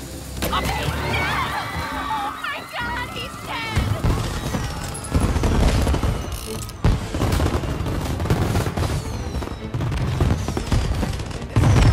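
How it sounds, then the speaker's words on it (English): Fireworks in the video game Mafia Definitive Edition, a dense run of booming bursts and crackling pops, loud and overlapping, with game speech and music mixed in. "And now for the fireworks"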